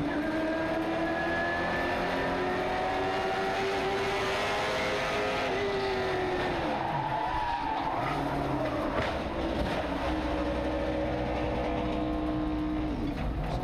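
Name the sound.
limited late model race cars on track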